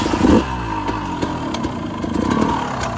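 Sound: KTM EXC 200 motorcycle engine idling

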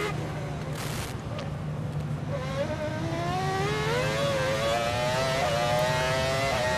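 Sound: Damon Hill's F1 car engine accelerating and shifting gears

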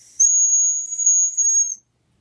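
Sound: dog whistle being blown

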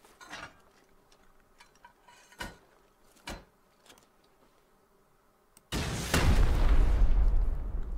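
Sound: rocket launcher rocket explosion in the video game Rust

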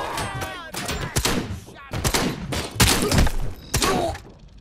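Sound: gunshots, double shots from Robocop: Rogue City video game

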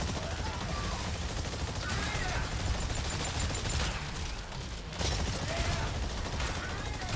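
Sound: gunfire shooting dinosaurs in the video game Exoprimal

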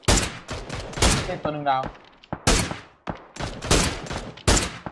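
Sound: gunfire in the video game PUBG

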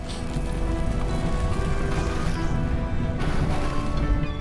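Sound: waterfall in the video game Child of Light

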